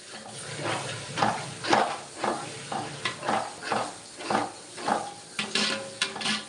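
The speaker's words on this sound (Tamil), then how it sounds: "உடையாமல் கிண்ட வேண்டும்" A spoon works through basmati rice biryani in a cooking pot with gentle rhythmic scrapes, about a dozen evenly spaced strokes over a soft sizzle, close and moderately loud.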